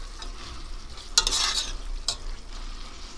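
Tomatoes and onions fry in a pot while being stirred, giving a soft sizzling bed with a couple of brief, scraping bursts of stirring.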